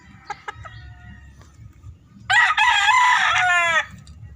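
A rooster gives one loud, close crow midway through. A couple of short chicken clucks come first over low background noise during morning feeding.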